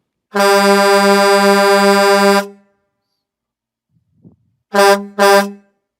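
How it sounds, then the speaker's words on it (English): A loud, blaring truck horn holds one long blast for about two seconds, then after a pause gives two short honks in quick succession. "Don't forget to honk the horn"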